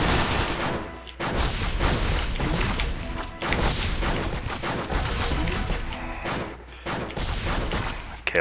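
Gunfire from fire bullets in the top-down shooter game Crimsonland, loud and dense, coming in heavy rapid bursts separated by a few short pauses.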